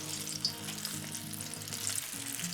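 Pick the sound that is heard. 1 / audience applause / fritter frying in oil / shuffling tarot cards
fritter frying in oil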